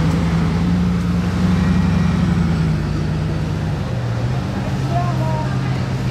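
A Bugatti Grand Sport with 1001 horsepower and a square exhaust rumbles steadily nearby, its low engine drone shifting pitch slightly partway through while people talk over it.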